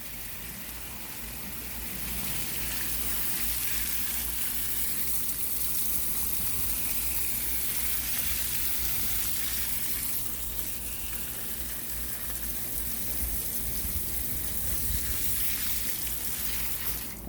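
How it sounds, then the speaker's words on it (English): A garden hose runs water steadily onto the soil around a potted lemon tree, a continuous broadband splashing gush that holds loud and even for the whole stretch after a quieter first two seconds. "It also puts out a lot of water. Doesn't look like it, but it's putting out a lot of water."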